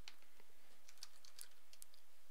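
Light, quick taps on a computer keyboard while text is entered in an HTML editor, faint and close with an irregular typing rhythm and no talking.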